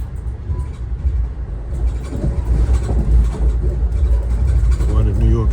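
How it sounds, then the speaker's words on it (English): Inside Amtrak train 183 running from New York to Philadelphia, a loud, continuous low rumble of wheels and carriage rolls on, with rhythmic clacks and a faint murmur of voices beneath. "on board train 183 from New York to Philadelphia."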